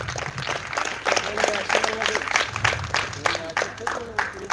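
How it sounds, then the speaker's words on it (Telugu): An audience claps for a guest invited on stage at an Ambedkar 132nd birthday event; scattered, fairly light applause of many hands runs throughout, with someone speaking over a PA at the same time. "అందరూ గట్టిగా క్లాప్స్ కొట్టాలి."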